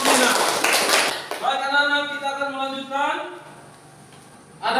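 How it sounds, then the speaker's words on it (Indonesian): A classroom of students claps for a classmate in a short burst lasting about a second, then a voice starts talking and carries on alone. "Tepuk tangan dulu untuk Roslina."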